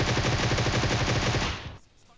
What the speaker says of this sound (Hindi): कोई इन पे शॉट्स दे रहा है ना